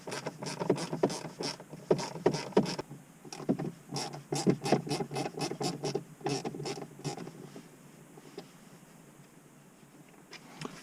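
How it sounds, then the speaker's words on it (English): Small screwdriver prying a part out of a Suzuki Swift Sport ZC32S gear linkage, heard as close, quiet clicking and scraping in quick irregular bursts that thin out toward the end. "So I'm gonna get a little screwdriver, pop this out"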